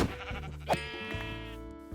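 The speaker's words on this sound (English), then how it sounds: "there is a couple of sheep here anyway" A sheep bleats in the Minecraft video game, a short wavering cry heard once clearly over a soft, steady background of game music.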